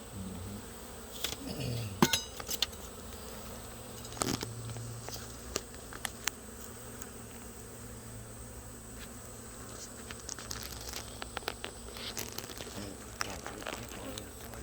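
A crowded, strong beehive hums with a dense, steady buzz of many bees, close by, broken by a few sharp knocks and taps from handling the hive.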